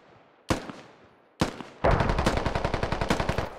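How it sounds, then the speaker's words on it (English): Mortar shells landing and exploding in the game Squad: two heavy, separate impacts, then a long, rapid, even string of blasts. There is no talk. "Mortars landing"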